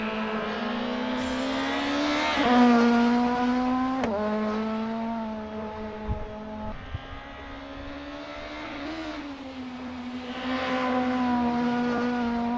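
A Nissan Primera race car in a sim racing game at Okayama International Circuit, its engine droning steadily with rising and falling revs through gear changes as it rounds the last corner on an outlap, clear and continuous.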